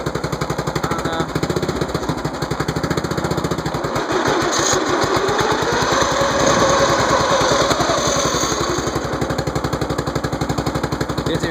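An old tractor engine idles roughly, its rapid mechanical chugging turning choppy and uneven before picking up speed, loud and close throughout with no talking.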